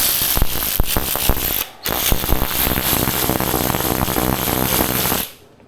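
A Seesii 3/8-inch long neck ratchet wrench spins, giving a loud, dense run of rapid mechanical clicking with a short pause near the start and a quiet stop at the end, with no voices.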